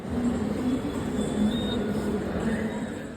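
Steady low rumble of a Tren Suburbano commuter train built by CAF, heard from inside a moving car, with continuous wheel and track noise and a faint high whine, no voices.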